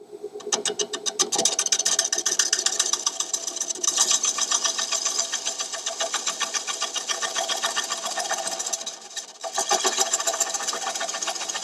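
A wood lathe turns a dried rough-turned bowl at about 400 RPM while a scraper cuts it, giving a close, continuous buzzing chatter with rapid rhythmic pulsing and brief dips in intensity, with no talk.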